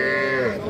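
A heifer calf at a cattle market gives a single loud, close moo that holds steady for under a second, its strong voiced tone filling the whole clip.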